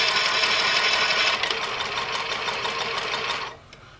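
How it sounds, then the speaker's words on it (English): A New Tech GC-20U83 zig zag lockstitch sewing machine runs steady straight stitching, a loud, fast mechanical whir and clatter that eases slightly partway through and then winds down near the end. "that was a regular stitching, a straight stitching right here"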